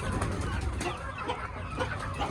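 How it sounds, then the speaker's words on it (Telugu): Hen sitting on a nest with three eggs, giving soft, low clucks at close range in a short burst, with faint background noise around her. "దీంట్లో ఒక కోడి కూర్చుంది దీనికి ఆల్రెడీ మూడు ఎగ్స్ ఉన్నాయి"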